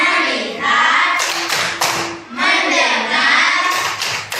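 Elementary school class doing the tepuk fokus rhythmic clapping chant in the morning, with bursts of clapping mixed into steady children's and teacher's chanting voices, fairly loud and close.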